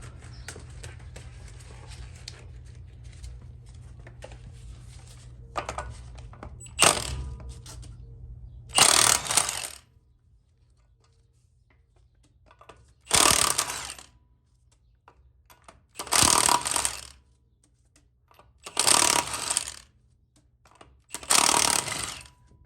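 A ratchet working on the wheel of a lifted two-wheel-drive Ford Ranger, heard as several loud, close bursts of rapid clicking, each lasting about a second and separated by quiet pauses.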